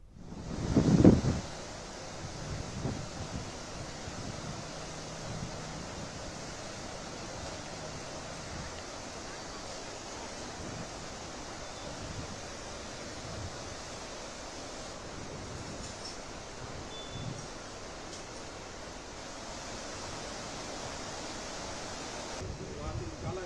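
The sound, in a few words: flash flood water and strong wind in Jammu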